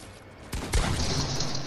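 A single sharp gunshot fired in an online multiplayer shooter game, heard as a loud, close crack followed by a second burst and a ringing, noisy tail, with no talking over it.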